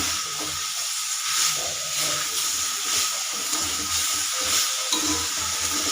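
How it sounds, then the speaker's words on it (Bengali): Chalta pickle with sugar is stirred in a frying pan, giving a continuous soft sizzling hiss with gentle scraping strokes of a spoon repeating at an even, unhurried pace throughout. "ভালো করে নেড়ে চেড়ে নেব, চিনিটা যাতে চালতার মধ্যে ভালোভাবে ঢোকে।"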